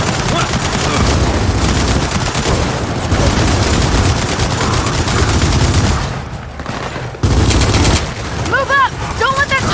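Sustained turret fire in the Gears of War 4 campaign, loud rapid automatic bursts rattling almost continuously with explosions and battle noise, a brief lull before the firing resumes, shouted voices underneath.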